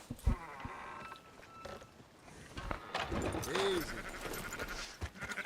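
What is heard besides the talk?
sheep bleating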